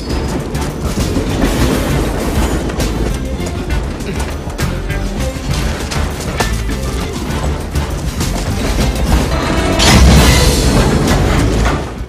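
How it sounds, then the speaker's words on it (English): Freight trains roll slowly past in a film chase scene, loud clattering, rumbling and banging wagons throughout with a heavier surge near the end. "People and very slow-moving freight trains."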